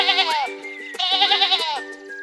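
A cartoon sheep on a farmland gives two drawn-out, wavering bleats, loud and close and alone, with a soft sound layered under them.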